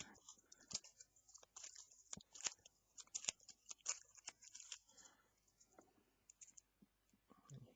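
Cards being shuffled for a Star Wars tabletop card game, a quick run of crisp riffling clicks and snaps, close and moderately quiet, with no talk.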